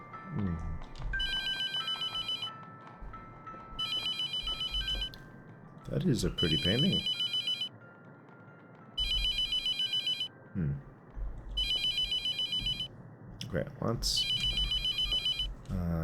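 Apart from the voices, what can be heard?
telephone ringing in video game The Mortuary Assistant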